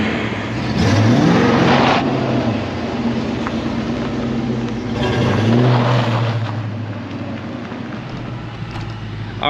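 A 1990 Ford Mustang Foxbody GT 5.0 with a custom exhaust drives past with a steady engine drone, swelling in two louder revving surges at about one and five seconds, with wide broadband road and wind noise throughout.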